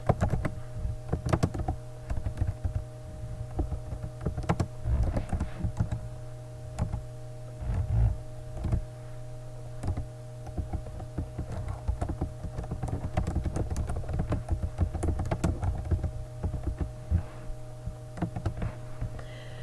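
Someone types on a computer keyboard in steady, irregular bursts of close clicking keystrokes over a constant low electrical hum, with no speech.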